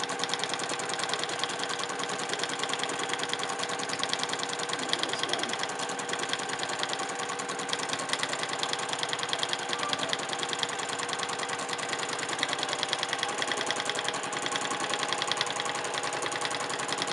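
Domestic sewing machine stitching in free motion quilting mode on a quilt panel, a steady, close, continuous whirring hum with fast rhythmic needle clatter running throughout without pause.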